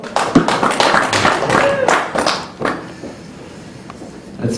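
An audience claps in a burst that swells and holds for about two seconds, then fades into scattered claps and quiet murmuring, with a few taps near the end.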